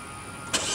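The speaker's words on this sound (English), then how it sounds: "There it is, remote start." A 2013 Kia Optima engine turns over by remote start, a sudden short burst of cranking noise that settles into a steady running hum.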